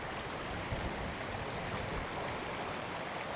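A swollen river in flood pours past in a dense, unbroken roar of churning, foaming water, heard close and loud throughout with no talking.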